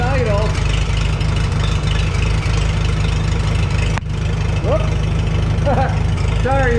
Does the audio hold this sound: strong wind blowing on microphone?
no